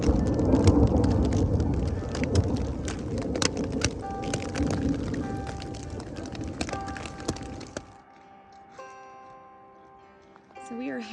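Heavy rain patters hard on a mountain trail with a deep rumble of thunder, loud and dense for most of the stretch before dropping to a quiet lull of scattered drips.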